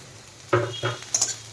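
Carrot, capsicum, beans, cabbage and onion hit a hot wok over a high gas flame for egg chowmein, giving a few clanking, clattering bursts of utensil on metal with a brief rising sizzle, close by and fairly quiet.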